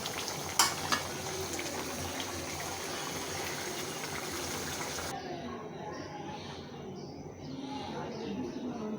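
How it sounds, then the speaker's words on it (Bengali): Chicken curry with mung dal sizzling and being stirred in a pot, a dense crackling frying texture that drops to a quieter bubbling simmer partway through, close with faint background voices. "তরকারি একটু নাড়াচাড়া দিই"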